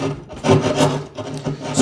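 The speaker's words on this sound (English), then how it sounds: "So just use your jab saw and carefully trim away." A jab saw trims a wooden stud to fit a metal electrical box, making close, rasping back-and-forth strokes in a quick uneven rhythm with no talking.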